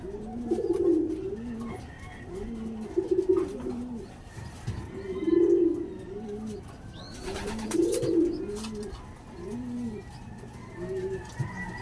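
Pigeons in a loft coo in repeated, rhythmic low phrases over about twelve seconds, close and fairly loud, with faint background chatter and a brief rustle.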